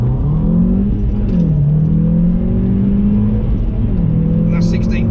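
A manual Audi S1 with four-wheel drive in dynamic mode pulls hard in first gear on a greasy road, the engine droning loud and rising in pitch from inside the cabin, with a brief lift partway through.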